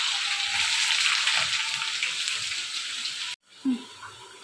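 Green chillies and onion sizzling in a hot pan for a home-cooked chicken kosha, with steady loud frying and a few stirring clunks, ending with a sudden cut to quieter sizzling.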